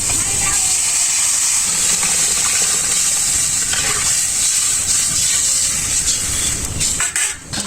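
Water poured into a hot pan of fried tomatoes for a village egg curry, a loud continuous steaming hiss and bubbling close by, easing near the end, with a voice talking under it.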